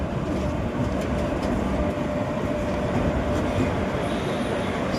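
The Kanchenjunga Express, running between Silchar and Sealdah, at New Jalpaiguri railway station makes a steady, loud, dense rumble that holds level throughout, with no voices.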